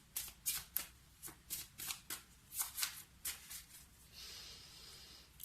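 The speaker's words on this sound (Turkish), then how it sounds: "Dilek kartı seçiyoruz arkadaşlar." Tarot cards are shuffled close by in a quiet room: about a dozen soft, papery riffle bursts in an uneven rhythm, ending in a brief continuous rustle.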